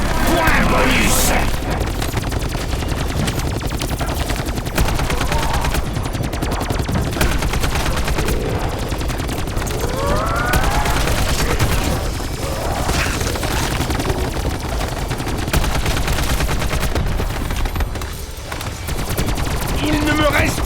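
Rapid, sustained video game gunfire bursts run almost without pause, loud and dense, with someone speaking French over the shooting.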